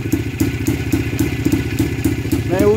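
A Libeňák (Jawa 350 Libeňák) motorcycle engine runs steadily after carburettor tuning, a loud close thumping, clattering beat with an even rhythm throughout, and a brief whine near the end.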